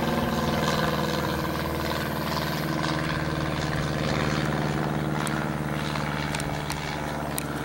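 A steady propeller-engine airplane drone hums overhead a farm with horses for the whole stretch, a broad continuous rumble with no voices.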